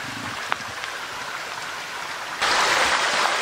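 A stream at Gold Mine Run, tinged orange by polluted water, flows with a steady broadband rush that swells suddenly louder partway through.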